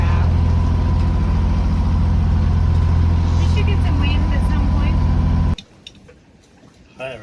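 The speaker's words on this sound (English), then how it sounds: "We're not really sailing, we're motoring" A sailboat motoring under engine power among the Whitsunday islands, a steady close droning engine hum that cuts off abruptly near the end, leaving faint ambient sound with voices talking over it.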